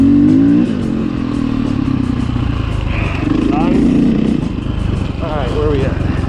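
A KTM 500 EXC dirt bike revs and accelerates on a trail at Gray Butte Loop and Henderson Flat, the engine loud and close, rising and falling through throttle changes the whole way.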